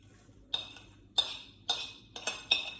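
Homemade dish soap made with Marseille soap is stirred in a small bowl, giving a run of bright clinks. Five or six distinct taps ring out, each followed by a short scraping swirl, close by and separated by brief pauses.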